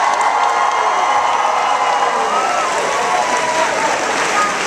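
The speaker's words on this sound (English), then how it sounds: "give him a big round of applause" An audience at a high school speech event breaks into loud, sustained applause, dense clapping mixed with some cheering that fills the whole stretch.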